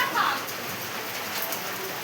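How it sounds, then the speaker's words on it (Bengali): Heavy rain pours down during a nighttime storm, a dense, constant wash of close downpour that stays loud and even from start to finish. "খুব জোরে বৃষ্টি হচ্ছে, ঝড় উঠেছে।"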